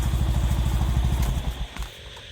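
A motorcycle engine runs close by in a rapid, steady throbbing putter that lasts about two seconds, then fades and roughens at the end.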